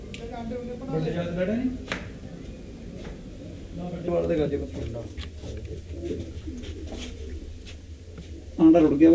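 Pigeons in a Punjabi pigeon-fancier's loft give soft, low coos that sit close under steady men's conversation, with a few sharp clicks and a louder burst near the end.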